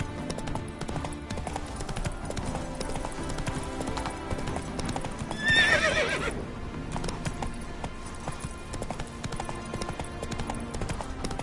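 Roach the horse gallops in a video game, with a continuous rapid clip-clop of hooves and a loud whinny partway through.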